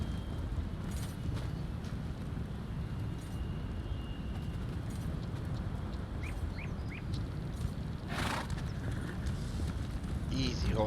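A horse in the video game Elder Scrolls Online clip-clops steadily over a dense ambient background, hoofbeats continuous and fairly soft, with occasional brief bird-like calls mixed in.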